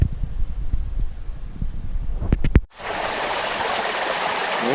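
Water from a shower-head filter tower pours into a 25,000-gallon koi pond, a steady close hiss of falling water starting abruptly after some brief knocks and bumps.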